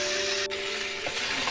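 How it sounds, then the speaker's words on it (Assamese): Chicken pieces and potatoes frying in oil in a pan for an Assamese-style chicken curry, giving a steady close sizzle with a brief stir near the middle. "মাংসখিনি প্ৰায় মই 30 মিনিটমান ভাজিম, কাৰণ মাংস যিমানে ভজা হয় মাংসৰ টেষ্টটো সিমানেই ভাল হয়।"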